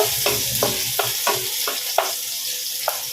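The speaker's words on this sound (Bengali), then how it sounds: "রসুনটা কিছুক্ষণ ফ্রাই করব, একটু লাল হওয়া পর্যন্ত।" Garlic fries in a pan with a constant bright sizzle, and a spoon knocks and scrapes through it in regular strokes about three times a second, close and fairly loud.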